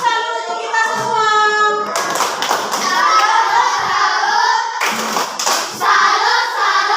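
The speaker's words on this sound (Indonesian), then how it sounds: "Tepuk salut untuk kita semua." Schoolchildren in an elementary school classroom clap a rhythmic salute clap together, loud bursts of group clapping mixed with children's chanting voices and a sung-sounding voice at the start.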